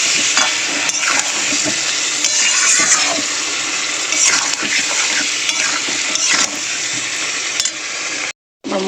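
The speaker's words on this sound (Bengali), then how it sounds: "এটা দিয়ে আলুটা কষিয়ে নেবো এই মশলাটা দিয়ে।" Potatoes frying in oil with a paste of spices and dried red chillies, a loud close sizzle with frequent scraping stirs throughout, ending in a short silence.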